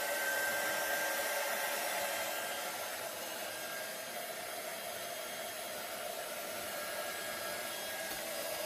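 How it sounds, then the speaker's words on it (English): A handheld heat gun blows steadily while curing embossing powder on a handmade Christmas card, a loud, even whooshing hum that continues throughout with no talking. "let's go ahead and turn on this heat gun"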